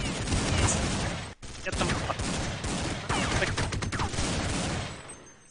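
Desert Eagle pistol fire in a Counter-Strike match on de_dust2 at the 2011 WCG grand final: dense, rapid volleys of overlapping shots fill the scene, with a brief cut-out, as a caster talks over the action.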